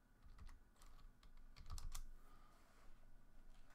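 Bursts of quick, uneven keystrokes on a computer keyboard, close and fairly quiet, tapping in short irregular clusters with brief pauses between.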